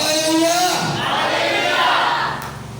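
A church congregation shouting hallelujah loudly in unison, a single big crowd cry that swells and then fades out.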